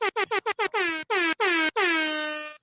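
Air horn blasts: a rapid string of short, loud honks speeding up slightly, then a few longer blasts and a final sustained blare that fades out, heard alone without talk.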